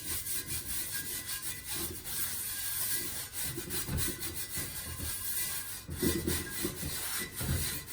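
Steel wool scrubs a new cast iron skillet with a steady, gritty rasping that runs continuously and fairly loud, the strokes swelling and easing in uneven pulses.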